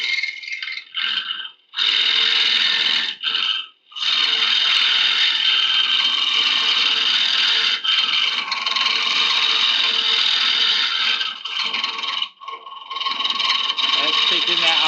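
Wood lathe turning a rotten horse chestnut hollow form, a loud, sustained rattling whir of the gouge cutting the spinning wood, broken by a few short pauses where the tool lifts off.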